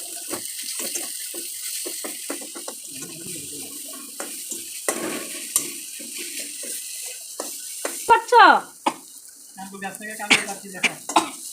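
Clattering and scraping of a utensil in a pan as spices are added to fried onions, with a soft sizzle underneath, punctuated by sharper metallic knocks and stirring toward the end.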